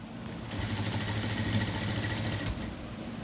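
A sewing machine stitches a blouse, its motor starting after a brief quiet and running in one steady, close, buzzing hum for about two seconds before easing off.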